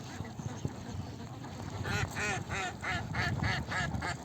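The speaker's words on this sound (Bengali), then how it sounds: "হাঁসটা মাত্র দেখতে আসছি মাঠে।" Ducks on a duck farm quack in a field, a run of repeated rhythmic quacks that grows louder partway through over a low outdoor rumble, with faint voices in the background.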